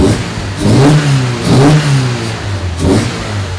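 A Toyota AE86's engine revs in three rising bursts, each climbing in pitch and then falling back toward idle, loud and close with a throaty, steady drone between the blips.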